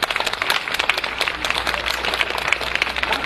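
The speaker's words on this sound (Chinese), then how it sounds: "不要鼓掌鼓得太厉害了" During a lecture, an audience claps in a short burst of brisk, fairly even applause, many hands together at moderate loudness with no talking.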